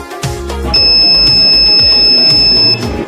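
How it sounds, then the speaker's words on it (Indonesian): A gas leak detector built as a student microcontroller project sounds its warning buzzer, a loud, steady high-pitched tone held for about two seconds after a few clicks, then cutting off. "ini adalah bunyi peringatan ketika kadar gas melebihi ambang batas"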